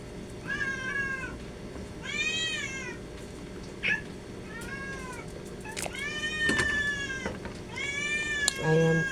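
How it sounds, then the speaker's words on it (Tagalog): A cat meows loudly and repeatedly, long drawn-out cries in a steady series, close by, with faint kitchen clatter and a voice in the background while squash is cooked. "napakaingay ng pusa."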